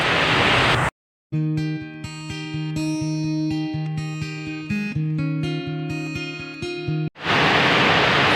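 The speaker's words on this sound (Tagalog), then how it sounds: "maririnig niyo yung tunog ng ulan" Steady hissing rain opens and closes the passage, with a stretch of music in between.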